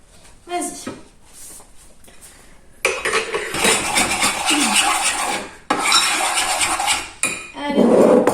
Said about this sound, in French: maintenant tu peux mélanger doucement avec la cuillère.